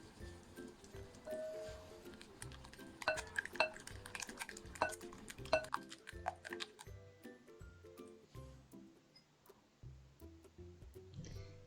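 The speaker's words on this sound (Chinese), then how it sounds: "加入40克的糖粉，搅拌均匀" Whisk or spoon scraping and clinking in a bowl while stirring pumpkin puree, beaten egg and powdered sugar, rhythmic close tapping and swishing strokes.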